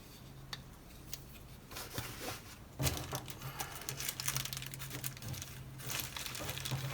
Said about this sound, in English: Take my dull knife again, cut the bag open.